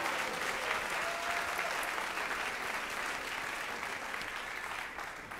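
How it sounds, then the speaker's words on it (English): An audience at a school spring band concert gives the students a sustained round of applause, a thick, even roar of many hands clapping that tapers slightly toward the end. "let's give our students one round of applause as we"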